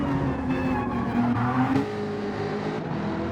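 Racing car engine revving out in the sim racing game Assetto-style league race at Alsace reverse layout, a steady loud engine drone with shifting pitch, mostly alone with no talk.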